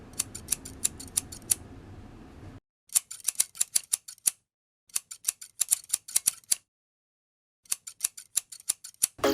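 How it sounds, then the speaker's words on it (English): Small scissors snip lace in quick rhythmic bursts of crisp clicks, pausing between runs of cutting, close and clear with no voices. "taking some tiny little scissors and cutting out a tiny little patch"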